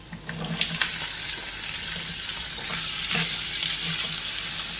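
Ivy gourd (kovakka) coated in turmeric, chili powder, salt and oil lands in hot oil with a few sharp clatters, then a dense, continuous sizzle follows, close and fairly loud.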